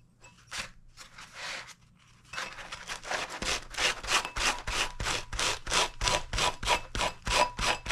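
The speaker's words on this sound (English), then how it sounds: "It definitely is shredding this sanding block." A sanding block rubs back and forth over cured UV resin on a clear wine glass, a steady rhythmic scraping that starts with a few strokes, then quickens into fast regular passes, close and alone.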